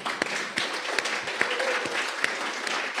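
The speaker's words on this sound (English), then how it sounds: "I want to applaud Graham." Audience applause at an art school lecture on Philip Guston at the New York Studio School: a dense patter of many hands clapping steadily, with sharper individual claps standing out, close and fairly loud for three seconds.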